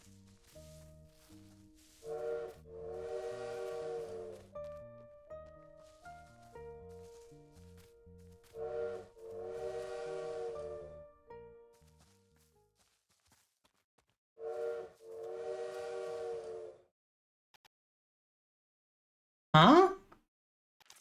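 A bird in a video game mimics a train whistle, with three separate sets of tonal, whistle-like hoots spaced several seconds apart over soft background music, then a short sharp burst near the end.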